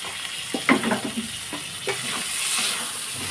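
A large tomato drops into sizzling chicken keema masala in a pan, with a few soft wet thuds and stirring scrapes over a steady close hiss.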